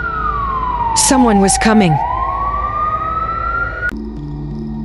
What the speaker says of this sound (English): A siren coming from outside the hospital.